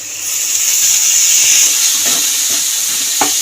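A paste of tomato and green chili is stirred in a hot frying pan, giving a loud, steady steam-like hiss with a few faint scrapes near the end.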